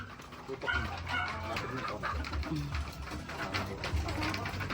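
Sweater, McLean and Bulik breed chickens cluck and murmur at feeding time, with a voice talking over the steady flock noise.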